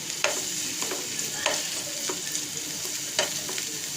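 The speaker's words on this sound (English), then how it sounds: "And give it a light stir." Chinese-style vermicelli with spring onions is lightly stirred in a hot frying pan, giving a steady close sizzle broken by a few sharp scrapes and clinks of the utensil against the pan.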